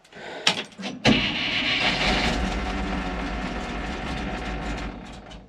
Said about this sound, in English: Huh, she fired right up.